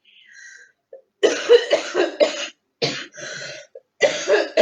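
A series of harsh, dry coughs in quick clusters, close and fairly loud, with brief pauses and some throat clearing between bursts.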